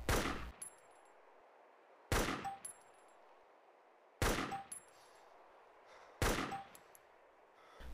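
Four single assault rifle shots are fired at 150-meter targets in DayZ, each a sharp, loud crack that decays quickly, spaced about two seconds apart with quiet between them and faint metallic pings after some.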